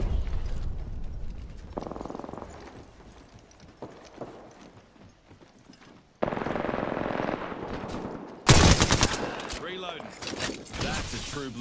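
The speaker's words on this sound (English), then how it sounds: "Being shot at." Rapid automatic gunfire in Apex Legends crackles in bursts across the clip, several weapons trading shots near and far, with heavier close volleys toward the end.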